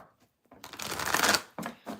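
Tarot cards being shuffled by hand: one long riffling burst, then two short quick shuffles, close and clear with brief quiet gaps between.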